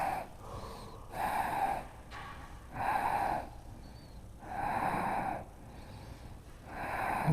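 Slow, deep breathing during a yoga class for runners, with long airy inhales and exhales alternating in a steady rhythm, close and fairly quiet, with no talk.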